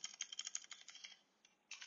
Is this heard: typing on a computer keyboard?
yes